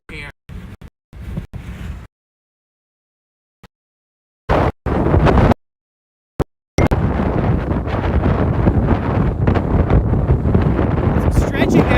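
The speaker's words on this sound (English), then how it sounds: "This wind just kicking over here." Strong wind buffets the microphone during a live storm chase, with broadband roaring gusts in short bursts at first, then a loud, sustained rush of wind for the second half.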